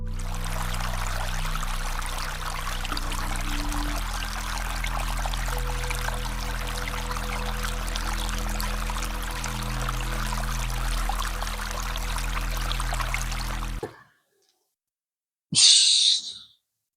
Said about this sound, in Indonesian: keran air wudhu itu nyala sendiri cok